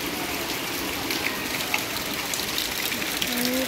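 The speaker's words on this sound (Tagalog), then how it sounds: "Ang lakas ng ulan." Heavy rain pours down outdoors in a steady, dense hiss of falling water, with occasional splashes and faint background sounds.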